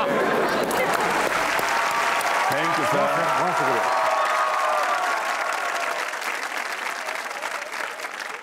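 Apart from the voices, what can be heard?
studio audience applause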